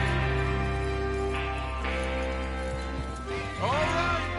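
Horses in Red Dead Redemption 2 whinny and shift about over a steady game soundtrack, with a rising neigh standing out near the end and soft hoof clops beneath.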